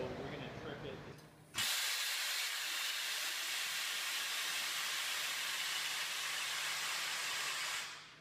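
An ATI gas motor actuator is tripped with nitrogen from a cage, releasing a sudden loud, sustained hiss of escaping gas that runs for several seconds after a brief moment of talk.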